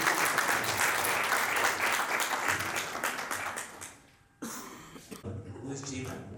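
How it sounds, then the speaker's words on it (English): Applause from the audience at an inter-school declamation competition, a dense crowd clapping that fades out midway, followed by a brief gap and then scattered voices and coughs. "please give a big round of applause to our team"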